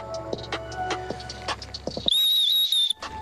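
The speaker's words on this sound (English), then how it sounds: "Well, that wasn't a very good blow of a whistle." A single whistle blown as one steady, shrill tone just under a second long, following some rustling and handling noise.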